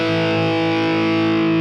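Electric guitar played through an Overscream overdrive in Amplitube 5 amp simulation software, a loud, sustained, heavily distorted chord ringing out alone with a thick buzzing edge.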